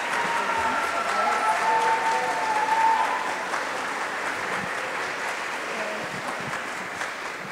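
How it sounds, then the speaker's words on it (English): School spring concert audience giving a loud, sustained round of applause that stays steady before easing slightly toward the end, with a faint voice briefly audible. "I think they deserve another round of applause."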